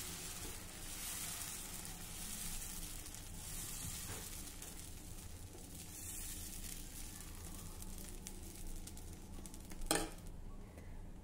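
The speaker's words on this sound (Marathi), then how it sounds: "तवा चांगला गरम झाला की त्यावर आता हे येडणीचं मिश्रण घालूया" Yedani batter sizzles on a hot, oiled tava over medium heat, a steady, fairly quiet hiss and crackle throughout, with one brief louder clink near the end.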